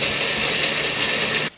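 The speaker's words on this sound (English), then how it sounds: "Blend it up." A blender whirs a protein shake with water, a loud steady motor drone with a churning wash that runs continuously for over a second and then cuts off abruptly.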